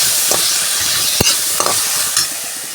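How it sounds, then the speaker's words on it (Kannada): Tomato and onion frying in a pan: a steady, loud sizzle runs throughout, broken by a few clicks and scrapes from stirring. No voices. "ಈ ಟೊಮೆಟೊ ಬೊಕ್ಕ ನೀರುಳ್ಳಿ ಫ್ರೈ ಮಾಡ್ತೀಗ"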